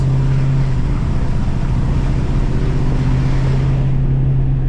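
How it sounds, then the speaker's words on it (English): Ford 6.7 Powerstroke diesel in a 2023-25 truck with a 650 whp limiter tune, under a slight throttle roll-on: a loud, steady low engine drone with constant road and wind rush, easing off slightly near the end. "Slight roll on of the throttle."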